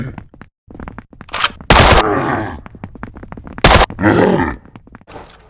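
Video game monsters attack, with loud guttural grunts and groans among bursts of sharp impacts and rapid clicking hits, some layered and processed.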